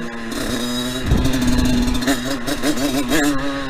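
A DT Replica CRF 86 Italkit dirt bike engine revs close by with a raspy, buzzing two-stroke tone, its pitch wavering up and down through repeated throttle blips over a constant running drone.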